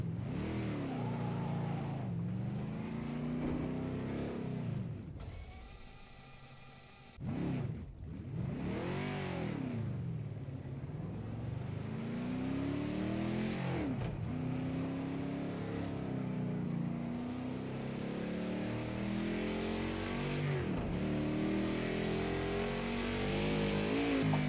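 Engine revs rise and fall repeatedly as throttle blips accompany heel-toe downshifts in Project Cars 2, a steady loud car engine with sweeping pitch changes, one brief gear-change dropout around the middle.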